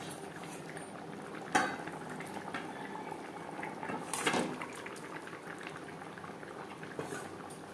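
Bhetki fish curry gravy with potatoes bubbles at a steady boil in a pot, a continuous close burble with a couple of louder utensil clinks.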